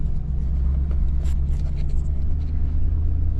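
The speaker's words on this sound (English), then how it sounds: "Let's take it on a ride, see what she does." A high-mileage car that has gone 300,000 miles without a tune-up, its engine giving a steady low rumble from inside the cabin while driving on a first test drive, constant and fairly loud throughout.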